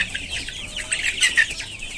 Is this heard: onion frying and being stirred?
no